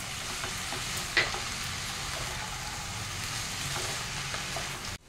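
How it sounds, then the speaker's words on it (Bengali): Hakka noodles sizzling steadily in a hot pan over a raised flame just after chili vinegar is added, with a continuous close frying hiss, faint stirring scrapes and a sharp clink early on. "এই সময়টা এবার আমি একটু ফ্লেমটা বাড়ালাম, আর এখন আমি একটু চিলি ভিনেগারটা অ্যাড করলাম।"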